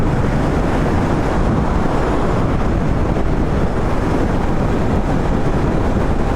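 Strong wind roars continuously in open country near Hampi, India, buffeting the microphone with a dense, steady rush of noise and no talking.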